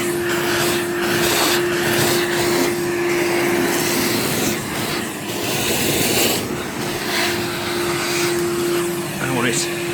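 A Skyvac industrial vacuum with a 35-litre capacity sucks sand off block paving outdoors, a loud, continuous roaring drone with a steady hum and shifting suction noise.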